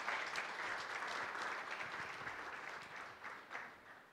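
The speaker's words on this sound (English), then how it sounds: "Please give him a round of applause as he connects to this meeting" Audience at a youth summit meeting gives a round of applause, a sustained patter of many hands clapping at moderate distance that gradually thins and fades toward the end.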